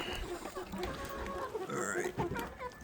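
Chickens clucking in a coop on a farm during a morning check for water and eggs, scattered soft clucks and rustling close by, with a person's voice in the background.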